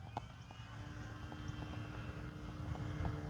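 An Avios Extra NG radio-controlled model airplane drones steadily at a distance, a faint continuous engine hum with no voices over it.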